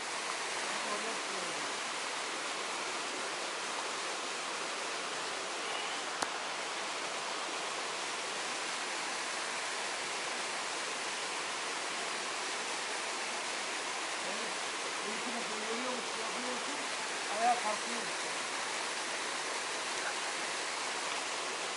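A waterfall roars as a constant, even wash of rushing water, close and fairly loud throughout, with faint voices now and then beneath it.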